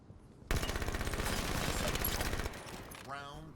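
Automatic gunfire in Halo 5: Guardians Breakout mode, a rapid burst of evenly spaced shots lasting about two seconds, loud and close, followed by a brief mechanical whir.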